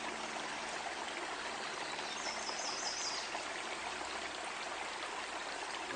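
Water trickles and splashes continuously from a hydraulic ram pump at a camp, a steady close-up rushing flow with no breaks and no voices.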